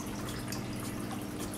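Water trickles from an indoor decorative waterfall, a soft, steady babble with faint drips, quiet and continuous, with no voices.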